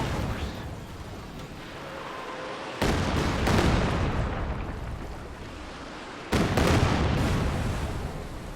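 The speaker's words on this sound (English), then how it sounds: "Katyusha firing again, blind." Katyusha rocket artillery firing in a World War II strategy video game, heard as a sustained loud roar of launches with two sharp surges of fresh barrages rolling through the noise, no talk over it.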